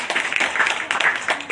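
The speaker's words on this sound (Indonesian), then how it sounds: "Tepuk tangan ya." An audience at a religious talk gives a short burst of close, quick clapping, a dense patter of many hands that stays fairly steady throughout.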